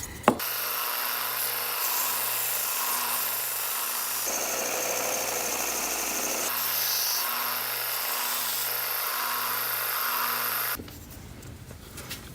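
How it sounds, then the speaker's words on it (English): A belt sander grinding a wooden glide bait cut from a 2x4, a loud steady motor whine with abrasive rasping that shifts as the wood is pressed on, then cuts off near the end. "And I'll do that on the belt sander."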